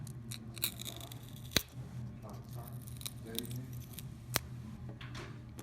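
An iPod Nano 7th generation battery being peeled out against its adhesive: soft crackling, tearing and scraping close up, with a couple of sharp clicks over a low steady hum, no talking.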